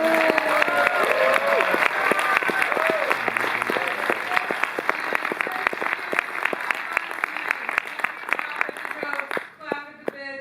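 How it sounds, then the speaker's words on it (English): An audience claps loudly and steadily at a live anniversary screening event with David Wain and Paul Rudd, dense sustained applause with cheering voices, tapering near the end. "a big round of applause for"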